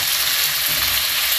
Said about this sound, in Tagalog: Baliktarin lang natin para maging crispy naman siya.